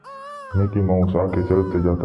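A small baby cries loudly in a Mickey Mouse horror story, its wailing sobs rising in repeated bursts over a faint eerie tone while someone narrates over it.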